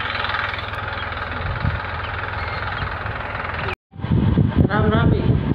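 A tractor engine runs with a steady, loud rumbling drone, cuts out for a moment, then returns with people talking over the running engine.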